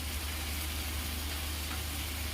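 Tomato masala with coriander powder sizzles and fries in a pan, a steady, soft crackling hiss with no voices, close and even throughout.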